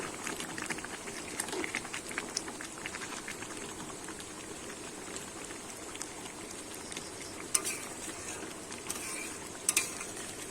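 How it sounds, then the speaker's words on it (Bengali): Chicken kosha, a Bengali-style chicken dish, being stirred in a pot after garam masala goes in, giving a steady soft bubbling and scraping wash with a few sharper utensil clicks near the end. "দিয়ে আমি আবার একটু নেড়ে নেব।"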